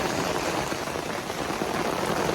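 Heavy rain pours down steadily in a dense, unbroken hiss of drops hitting surfaces, loud and close with no gaps, during a storm while people were out cutting wood.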